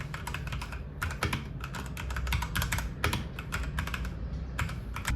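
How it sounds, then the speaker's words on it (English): Typing on a Redragon K616 Fizz Pro mechanical keyboard fitted with quiet linear Huano switches, a dense, continuous patter of soft, rapid keystrokes heard close up with no voices. "These are the most quiet Huano mechanical switch, linear, soft key travel, which make these click easy to register."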